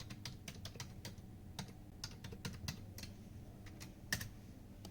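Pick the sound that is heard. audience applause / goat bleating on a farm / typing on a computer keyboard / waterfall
typing on a computer keyboard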